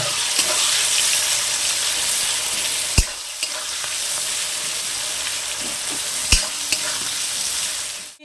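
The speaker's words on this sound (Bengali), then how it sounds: "পেঁয়াজগুলোকে আমি লাল লাল করে ভেজে নেব।" Onions frying in a pan until reddish for a potato chicken curry, a steady close sizzle with a few sharp knocks of stirring, alone with no voices.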